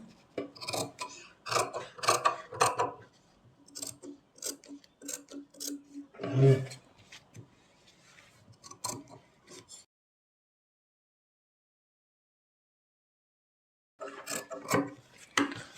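Scissors cut fabric in a sewing class, with rapid crisp snips in irregular bursts. The snipping stops for a few seconds of silence, then resumes.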